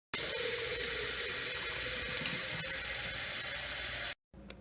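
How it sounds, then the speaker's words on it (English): Tap water runs steadily into a container for about four seconds, a loud continuous splashing gush that cuts off abruptly near the end, followed by a brief quieter moment. "So yeah, let's put some water in here."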